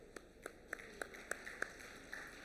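Sparse, faint clapping from a small conference audience as the CEO walks on stage, with separate claps spaced about every third of a second in a quiet hall.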